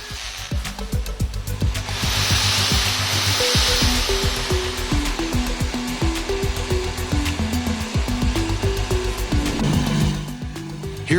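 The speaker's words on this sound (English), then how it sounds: "We're going to connect this drill." A power tool whirs steadily and loudly nearby, its motor pitch shifting as it works against material, with clattering and rubbing underneath.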